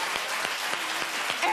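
A studio audience at a daytime talk show breaks into brief, full applause, a dense burst of many hands clapping at once, loud and close.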